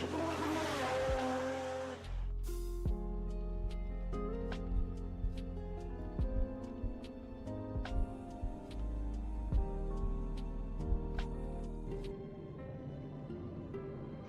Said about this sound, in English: These guys were insane, bro. 500 horsepower cars.